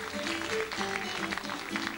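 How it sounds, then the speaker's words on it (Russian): Colleagues applaud at a Russian trade union awards ceremony as a recipient is called to the stage, a steady hall-filling clatter of clapping with a light band of background music underneath. "Подружные аплодисменты ваших коллег."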